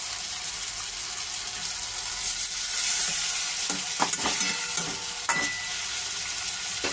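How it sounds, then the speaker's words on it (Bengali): Okra stir-fried with spice paste in a pan, a constant loud hissing sizzle with occasional scraping stirs and clinks of a utensil, close and continuous. "এবার আমি মশলাটা দিয়ে দিচ্ছি।"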